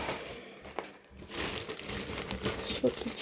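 Crinkling and rustling of plastic trash bags, with irregular crackly bursts close by and some handling noise.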